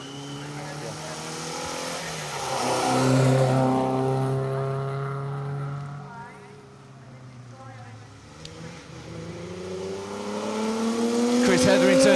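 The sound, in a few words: Ford Sierra XR4x4 rally car at speed on stage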